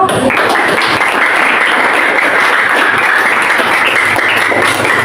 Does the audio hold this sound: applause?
yes